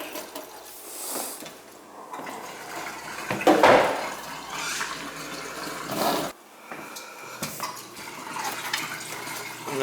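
Water runs from a tap in a winterized summer cottage as the supply is turned back on, a steady rushing and splashing with shifting intensity and a few clatters, close by and with no talk.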